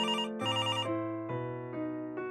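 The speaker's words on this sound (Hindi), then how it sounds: "ये मोबाइल की जगह लैंडलाइन खनखना रहा है" A landline telephone rings loudly and close by in a night scene, repeated electronic trilling bursts in quick succession with no one speaking.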